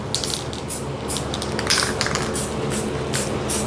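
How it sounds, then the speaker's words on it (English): An aerosol spray paint can hisses in short and longer bursts as paint is sprayed for spray paint art, close and fairly loud, with brief gaps between the sprays. "I'm just going to spray around it."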